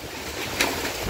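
Steady rushing typhoon wind on a rooftop with a sharper gust swelling briefly partway through, broadband and fairly close, no voices.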